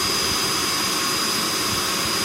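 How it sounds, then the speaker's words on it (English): A household vacuum cleaner powered from a DIY battery power station and inverter runs with a loud, steady whooshing roar, close and unbroken throughout. "Okay, so now I'm running my vacuum."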